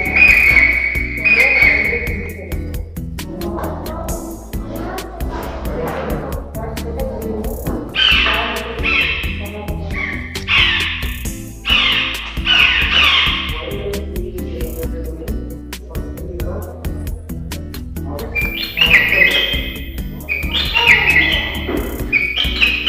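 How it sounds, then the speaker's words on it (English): Recorded bird calls play from a push-button bird call tree at a bird sanctuary: a series of whistles, chirps and hooting calls in bursts, with a steady background hum between them. "You can press the buttons and you'll come to know the different bird calls"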